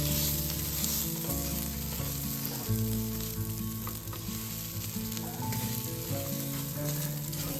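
Arborio-style risotto rice toasting in a pan with oil gives a steady, close frying hiss that runs unbroken the whole time, with soft low scraping underneath and no voices.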